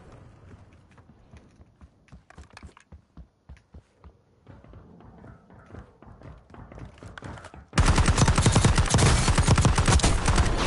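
Gunfire in a battle royale shooter, sporadic shots and faint bursts at first, then an abrupt loud barrage of rapid automatic fire in the final few seconds.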